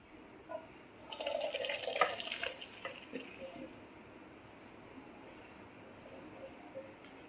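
Pasta cooking water pours through a strainer in a home kitchen, a loud rushing splash lasting a couple of seconds before fading to light drips and quiet.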